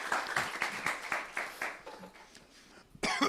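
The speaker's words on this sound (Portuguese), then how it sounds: "Uma salva de palmas para você" An audience claps for a participant at a talk about psychic investigators. The applause is brief and comes in bursts, with a cough in the middle, then a louder surge of clapping.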